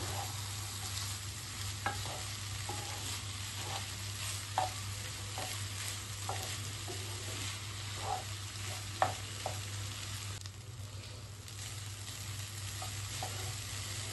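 Tomato rice is stirred in a pan, soft repeated scraping and clinking strokes over a low sizzle and a steady hum, fairly quiet throughout with no talking.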